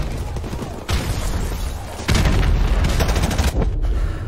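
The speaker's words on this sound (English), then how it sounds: "They are spamming the shell grenades." Explosions and gunfire in the Call of Duty Modern Warfare Remastered video game, with grenades going off, several heavy booming bursts with sudden loud onsets layered over rattling shots, continuous and intense.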